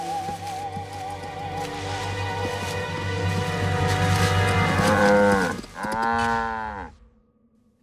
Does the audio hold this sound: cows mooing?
yes